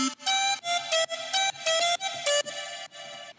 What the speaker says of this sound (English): I made this lead with Serum,